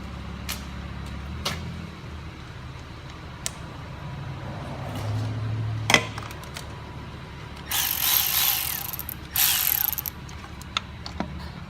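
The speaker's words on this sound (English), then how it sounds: "we're just gonna go ahead and screw on all these bolts back." A ratchet tightening the valve cover bolts on a Lexus ES 300, with a few scattered close clicks and short ratcheting bursts separated by pauses, plus a couple of louder clanks near the end.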